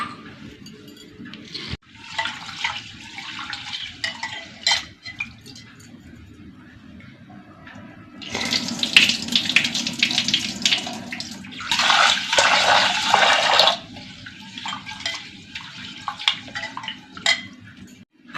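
Raw rice and roasted split moong dal being rinsed by hand in a kitchen vessel while cooking ven pongal, with sloshing, swishing water in several bursts, loudest in the middle, and no talking.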